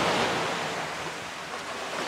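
Sea waves on Zanzibar wash up over seaside steps, a continuous broad rushing surge with wind buffeting the microphone, loud and close, with no speech.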